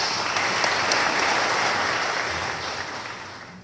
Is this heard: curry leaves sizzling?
no